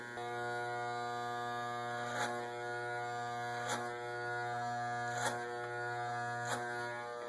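Electric hair clippers run in a steady close buzz while cutting a neck taper fade, with a few brief louder spikes as the blade scoops into the hair; no one talks.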